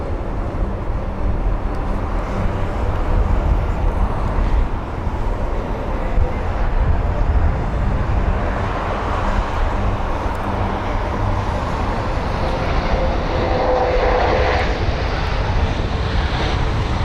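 Airbus A320-200 airliner landing at London Heathrow, heard as a steady, loud, broadband engine roar with a deep rumble that holds for the whole stretch, with faint traffic-like background noise.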